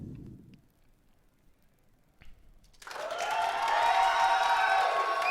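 A video game crowd at a curling match breaks into loud applause and cheering after a quiet stretch, rising to a steady, sustained clapping.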